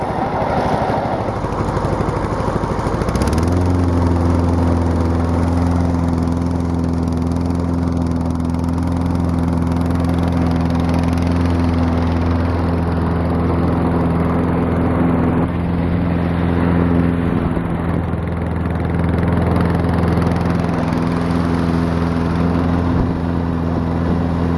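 A brush mower engine idles low and steady after starting up a few seconds in, making a loud, close, continuous drone with an even hum and no talking.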